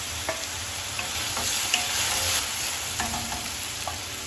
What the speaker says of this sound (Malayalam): സവാളയും പച്ചമുളകും ചെറുതായിട്ട് വഴറ്റി വന്നിട്ടുണ്ട്